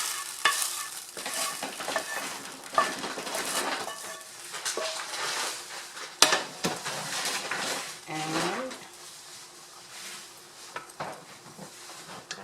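Beef and vegetables frying in a pan for chop suey, a continuous sizzle with repeated stirring scrapes and occasional clanks of a utensil against the pan, up close and without talking.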